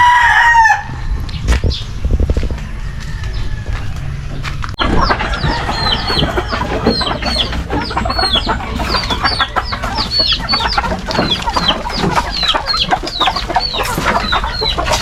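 Several chickens cluck and a rooster crows nearby, with repeated calls overlapping in a busy, continuous farmyard chorus.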